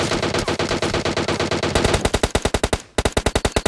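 Automatic gunfire in PUBG Mobile, loud rapid bursts of shots in a fast regular rhythm, with a brief pause before another burst resumes.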